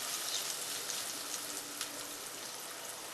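Sliced onion dropped into hot oil seasoned with a pinch of asafoetida, sizzling in a steady, bright hiss with small crackles, close and alone.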